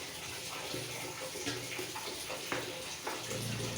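Water runs and splashes while something is rinsed clean, a continuous gushing tap-like flow with a few sharper splashes and knocks along the way.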